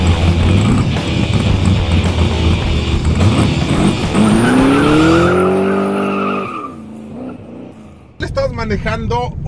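A Lincoln MKZ Hybrid car drives along with a steady engine and road sound, a rising tonal whine near the middle, then a quieter stretch before a voice speaks at the end.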